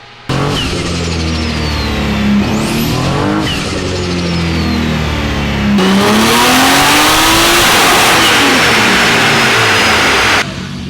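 A tuned Nissan Skyline R34 engine roars through two long full-throttle dyno pulls, pitch climbing steadily, very loud and close, with a brief drop between runs.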